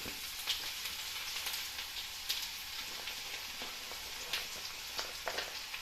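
Chopped ginger frying in hot oil with fenugreek for a green grape and date pickle, a continuous close sizzle sprinkled with sharp crackles and pops, no voices.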